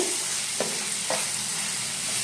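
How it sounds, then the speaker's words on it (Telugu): Ginger garlic paste and turmeric being stirred into prawns and onions for a prawn tomato curry, a steady hiss of frying with two quick spatula scrapes, low in level and without speech. "1 tablespoon అల్లం వెల్లిపాయ పేస్ట్, అలాగే 1 tablespoon పసుపు బాగా మిక్స్ చేసుకోవాలి."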